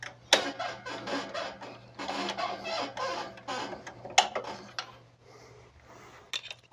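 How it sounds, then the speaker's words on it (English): Plastic retaining clips are pulled from both sides of a Coverbind envPrinter during hardware setup, giving a run of sharp clicks, snaps and scraping plastic rattles in irregular bursts, close and fairly loud, with no talk. "Pull the 2 retaining clips out of the printer on both sides."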